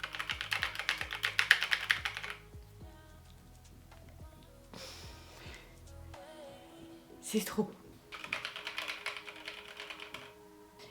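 Bursts of rapid clicky keystrokes on a new wireless keyboard with rounded edges, close and crisp, separated by pauses while someone speaks French over and between the typing.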